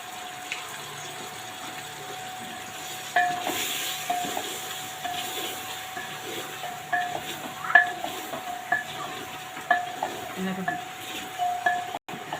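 Meat being stirred with spices such as turmeric, coriander powder and garam masala in a pan for gosht kosa, giving steady scraping and stirring strokes with light sizzling, close and moderately loud, with a faint hum behind.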